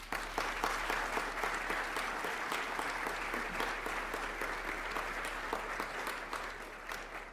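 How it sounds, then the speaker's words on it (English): Sustained applause from an audience at a mayoral budget address, dense steady clapping filling the hall throughout with a faint crowd murmur underneath. "Both Siddiqui and Hilda, we should give our thanks to and applaud them"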